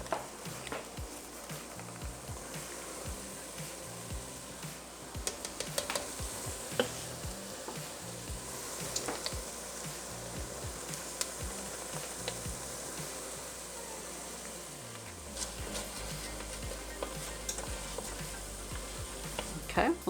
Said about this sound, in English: Keep stirring it around.